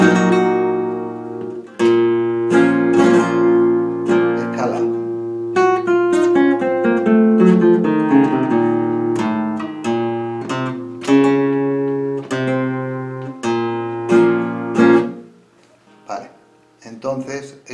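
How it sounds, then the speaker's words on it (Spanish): Rapid flamenco guitar strumming, bright rasgueado bursts rolling across the strings in quick repeated patterns, close and loud, with a few sustained chords between. "4 rasgueos tirando con el índice para arriba."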